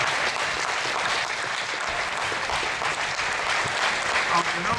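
An audience claps continuously, a loud, dense spread of applause filling the room evenly for several seconds.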